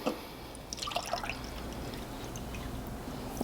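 Kombucha liquid is poured into a cup, a soft, quiet trickle with faint drips against a low background.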